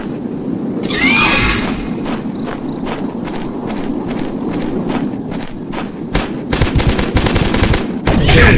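Rapid gunfire crackles nonstop in a dinosaur hunting game, loud dense bursts of shots over a rumbling background, with a brief whinny-like cry early on and heavier volleys toward the end.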